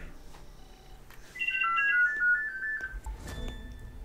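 A phone ringtone in The Crew 2, a short trilling electronic melody of quick repeated high notes, moderately loud over a noisy game background with rumble and clatter, no voices.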